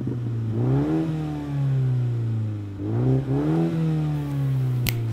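A Mini GP3 with a 2-litre turbocharged inline four-cylinder making 306 horsepower revs up twice, its engine note climbing and falling close by in two distinct surges over a steady idle.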